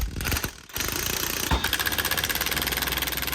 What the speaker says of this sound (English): The impact was just supposed to loosen it.